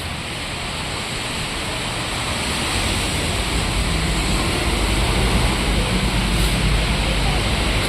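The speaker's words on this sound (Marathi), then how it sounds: "खूप जोरात पडतोय पाऊस." A dense, continuous roar of heavy rain pours down steadily, loud and unbroken for the whole stretch, swelling slightly toward the end.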